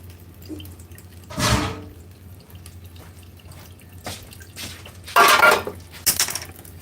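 A mouldy dish is washed up at a sink, with a few separate bursts of running water and splashing, and light clinks of crockery between quiet gaps.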